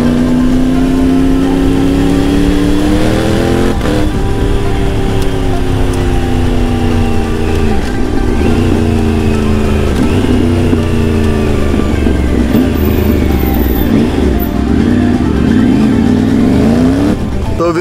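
A motorcycle engine runs continuously, its pitch climbing and falling as it revs and accelerates, loud and close throughout.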